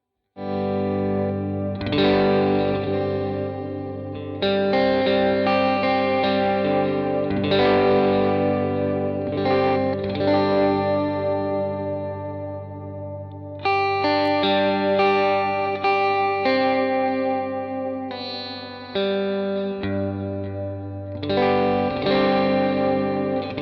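Fender Stratocaster on its neck-and-middle pickup position with a compressor, ringing out chords and arpeggiated notes. Sustained, even-level and up front, with a chorus-like shimmer, in phrases separated by short breaks and no voices.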